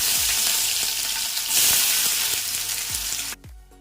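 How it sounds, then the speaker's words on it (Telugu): Two medium-sized onions frying in about 100 ml of hot oil in a cooking bowl, giving a loud, steady sizzle with occasional stirring scrapes, then dropping abruptly to quieter crackling at the end, with no talking. "ఆయిల్ ఎట్టాక 2 మీడియం సైజ్ ఆనియన్స్ని యాడ్ చేసుకోండి."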